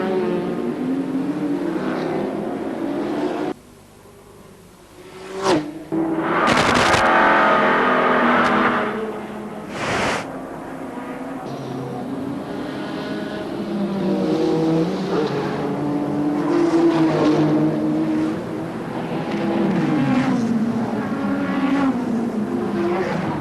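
Race cars in the 1991 Nissan Mobil 500 street race in Wellington, New Zealand, roaring and revving loudly past, engines rising and falling with sharp bursts as cars accelerate and pass close by.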